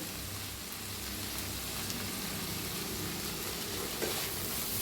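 A pan of roasted bhaji mixture with coriander sizzles and crackles steadily while being stirred, a continuous close frying hiss with occasional scraping sounds.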